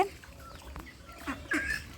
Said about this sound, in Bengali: আমার মা আমাদের বাড়ির হাঁস মুরগিকে খেতে দিয়েছে